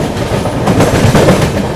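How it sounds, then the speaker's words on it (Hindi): The Andhra Pradesh Superfast Express passes close and loud at speed, overtaking the Danapur Secunderabad Express waiting on a loop line, its wheels drumming in a dense, continuous rumble with rapid clickety-clack. "अपनी आंध्र प्रदेश एक्सप्रेस ओवरटेक करने जा रही है दानापुर सिकंदराबाद एक्सप्रेस को"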